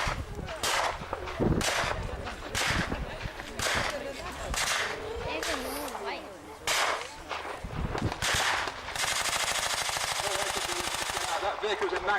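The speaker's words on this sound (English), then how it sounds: "You check the MG42 is working." Bursts of MG42 machine gun fire at a World War 2 battle reenactment, loud rapid volleys repeating in short strings with sharp cracks, ending in a sustained stretch of continuous firing.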